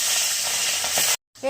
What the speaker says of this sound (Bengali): হলুদ মাখিয়ে ভেজে নেব।